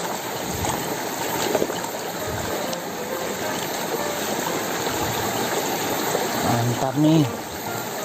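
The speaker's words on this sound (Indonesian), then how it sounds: "Kita cuci ya mainannya." Water runs and gushes steadily while toy trucks are washed, a continuous splashing stream with a voice briefly speaking near the end.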